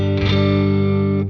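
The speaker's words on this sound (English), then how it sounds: "this RC Booster version 2 is one of those pedals you would put on all the time" Electric guitar played through an Xotic RC Booster v2 pedal switched on, one loud, close, sustained boosted chord ringing for about a second.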